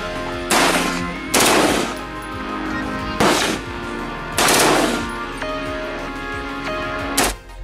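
An automatic rifle fired in real life with minimal recoil, several loud, close bursts of rapid shots separated by pauses, with one short final burst.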